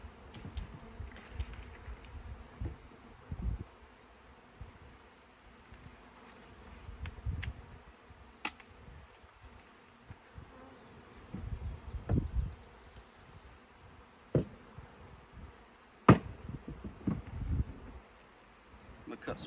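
Honeybee swarm clustered in a tree, a faint steady hum of many bees with individual insects buzzing past the microphone now and then, plus scattered rustling and handling knocks outdoors.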